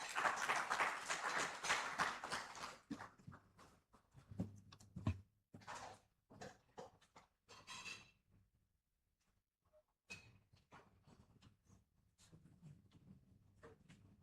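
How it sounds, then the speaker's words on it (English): An audience at an agricultural pitch event claps briefly, a few seconds of loose applause that thins into scattered claps and faint room noises. "A round of applause for Enzia Greek."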